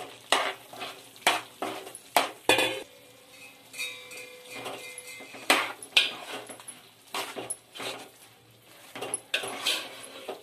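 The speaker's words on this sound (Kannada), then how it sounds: "ಸೋಯಾ ಚಂಕ್ಸ್ ಹಾಕೊಳ್ತಾ ಇದ್ದೀನಿ" Soy chunks tumble into fried masala in a pan, followed by a run of scraping, clinking stirs with a spoon against the metal, close and uneven, with a low sizzle underneath.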